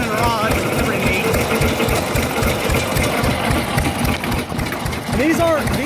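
A 1917 Fairbanks Morse Z 6HP hit and miss engine mounted on a 1957 Chevy truck chassis runs with a continuous rapid chugging rhythm, loud and close, while people talk over it.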